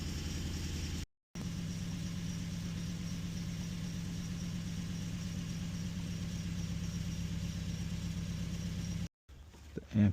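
A 2011 Nissan Frontier with a misfire idles steadily and close by, a low rumbling drone that holds even throughout, broken by two brief dropouts.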